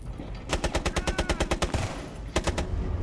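Rapid automatic gunfire in the video game Rainbow Six Siege rattles in a long even burst of about a dozen shots, followed after a pause by a shorter burst.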